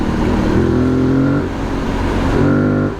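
An Aprilia Tuareg 660 motorcycle engine accelerates on the road, rising in pitch in two pulls with a gear change between, loud and close over steady wind rush.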